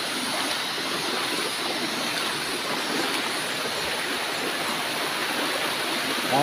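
Rushing river water makes a continuous, even wash at a picnic spot by a river headgate. No distinct hand splashes stand out from the flow.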